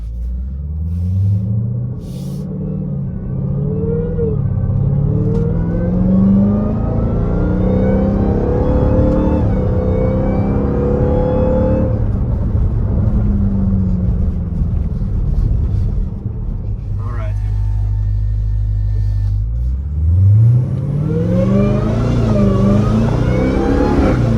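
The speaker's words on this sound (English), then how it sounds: "we're gonna do the first small pull to hear that intake with the windows up" A car engine revs up through the gears in long pulls, heard from inside with the windows up, with a rising intake whine riding over the rumbling exhaust, loud and close.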